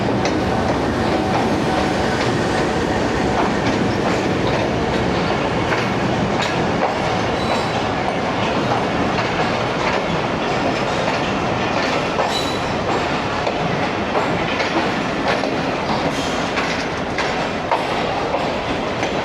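Raftar express train rolling past on a Pakistani mainline near Wazirabad, a steady loud roar of wheels and carriages with continuous clickety-clack over the full length, no voices.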